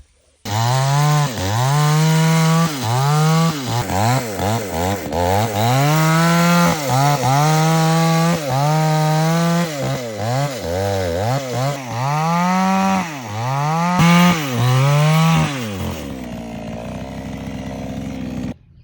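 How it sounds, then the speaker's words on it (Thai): A chainsaw cuts apart a large sweet bamboo rhizome, its engine loud and close, revving up and dropping back in repeated surges as it bites into the wood, then cutting out to a brief idle at the end. "นี่ก็คือนะครับ เง่าไผ่ตรงหวานนะครับ ที่เราไปเลื่อยชำแหละออกมานะครับ"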